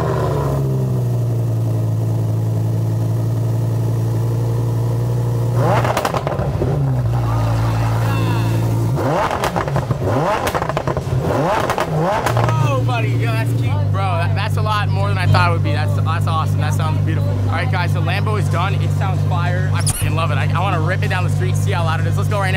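A car with a newly fitted tuned exhaust is started for the first time, giving a steady idle and then several sharp revs that rise and fall. The engine sounds loud and close, and people talk over it at times.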